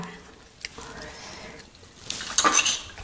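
Artichoke papaya salad (som tam) being served onto a plate, with soft clinks and scrapes of utensils against dishes, a brief tap early on and a louder clatter near the end, close by.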